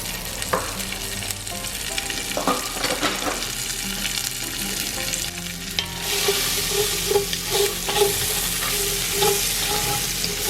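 Chopped garlic, onion and ginger sweat with a pinch of salt in a pan for Korean braised short ribs, giving a steady close sizzle and frying hiss that grows brighter and louder partway through, with light stirring scrapes.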